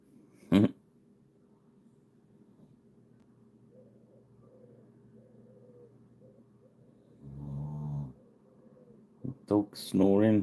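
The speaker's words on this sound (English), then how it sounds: "Dog snoring." A dog snoring softly in a quiet room, a faint drawn-out breath followed by a few louder low, rumbling snorts near the end.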